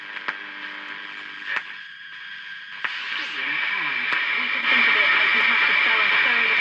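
A homemade bush radio with a crude aerial plays a distant, muffled voice through its speaker, buried in heavy steady hiss that grows louder toward the end, with occasional clicks.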